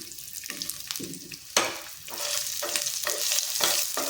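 Green chillies, ginger and garlic sautéing in a pan, with a steady hiss of frying broken by spoon stirs and scrapes and sharp spits of oil, rising louder midway.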